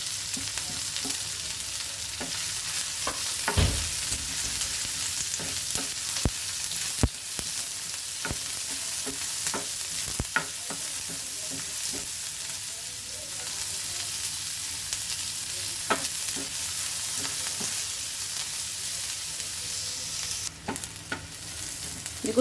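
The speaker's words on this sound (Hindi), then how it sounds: "कांदे को गोल्डन फ्राई करना है।" Sliced onions sizzle steadily in a hot pan for a homemade egg masala on a tawa, a continuous frying hiss with occasional stirring clicks and scrapes, close and fairly loud throughout.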